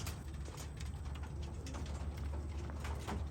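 Racing pigeons coo softly at their home loft after a training toss, a low steady murmur of several birds close by with faint rustling and no talk.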